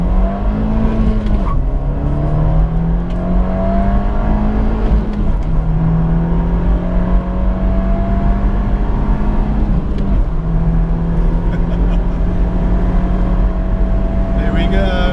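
A 2018 Abarth 124 Spider GT accelerates up to 100 mph, its engine droning steadily from inside the cabin and rising through several gear changes, with a person talking over the constant road and engine noise.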